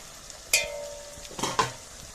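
Chicken being stirred as it fries with spices in a pot, a short scrape and clatter followed by a couple of spoon strokes over a soft sizzle, close and alone.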